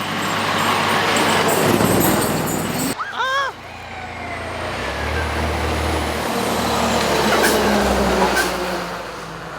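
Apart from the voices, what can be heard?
fire truck arriving at a scene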